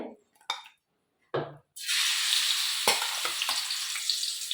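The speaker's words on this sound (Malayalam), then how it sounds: "ഇനിയിപ്പോൾ എണ്ണയിലിട്ട് വറുത്തെടുക്കുക" Spiced chicken coated with chilli powder, turmeric and salt hits hot oil and sizzles loudly and continuously at close range, with a few knocks and scrapes of stirring and brief speech just before.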